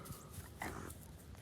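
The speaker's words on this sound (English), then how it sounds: "Got the dog checking everything out here." Soft, close snuffling of a dog sniffing around outdoors, in short faint bursts with a quiet background.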